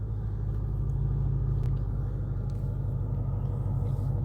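A Shelby GT350's 5.2-litre flat-plane-crank V8 rumbles steadily at idle, a loud, close, continuous low drone with no talk over it.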